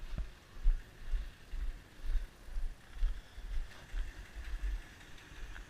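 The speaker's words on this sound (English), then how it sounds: "Motor runs nice and strong." An engine fitted with headers and a slight exhaust leak idles steadily, giving a low rhythmic pulsing thrum with faint wind noise and no talk.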